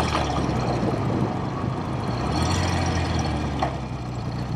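A 1969 BSA Thunderbolt 650 motorcycle engine running on the road, a loud, close, steady low rumble with constant wind rush, holding an even drone for a few seconds.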